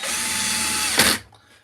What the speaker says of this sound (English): I'm going to be drilling all the holes